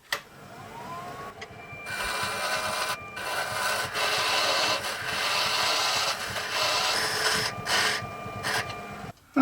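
Steady rasping and rubbing as V notches are cut down a small wooden stick-shift boot for a model 1929 Ford stake bed truck, continuous for several seconds with brief pauses, close and fairly loud.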